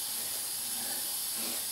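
Pressure cooker with rice and azuki beans, steam hissing steadily at pressure: a continuous soft, airy hiss with no break and no voices.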